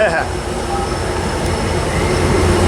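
A passenger train passes at Fullerton station, a loud continuous rumble and wheel noise close by with no talking.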